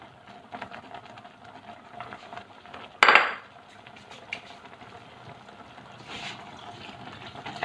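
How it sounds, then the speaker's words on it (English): Cream of mushroom soup with coriander being stirred in a pot: a steady low simmering hiss with one sharp spoon clack against the pot near the middle, then quieter scraping. "Give it a good stir."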